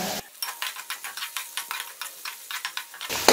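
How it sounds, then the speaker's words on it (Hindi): Pulao ingredients with shredded chicken stir-fried in a pan over medium heat, giving a steady run of close scraping stirs over a light sizzle, about a dozen strokes in a quick even rhythm with no talking. "अब मैं इसको भून रही हूं, एक से दो मिनट हमने इसको भूनना है दरमियानी आंच पर।"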